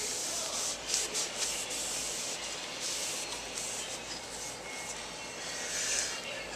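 Hands rub and wipe at a motorcycle rear axle on a 2008 Kawasaki ZX6R during rear wheel installation, giving a soft, continuous scrubbing hiss with a few brief louder strokes and no talk.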